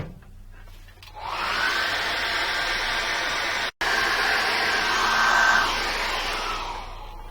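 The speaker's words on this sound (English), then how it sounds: "I'm just going to dry that off very quickly with a hairdryer" A hair dryer blows with a steady, loud whoosh for several seconds while drying a watercolour wash, briefly cutting out once before resuming and trailing off.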